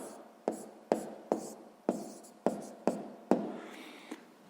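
Pen writing by hand on paper during a sixth-grade math exercise, about eight short scratchy strokes in an uneven rhythm, close and quiet.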